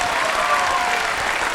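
A crowd applauds thunderously at a squash final of the CCI International 2017 after a long rally, a dense and loud sustained roar of clapping with no talk over it.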